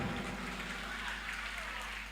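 A steady wash of applause from an audience at a comedy show, even and continuous, heard at moderate distance without a break.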